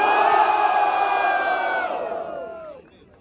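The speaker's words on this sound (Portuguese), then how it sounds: "barulho quem gostou do Versalhes, de guri" An audience at a São Paulo rap battle semifinal cheers and yells loudly, the roar holding steady before tapering off toward the end.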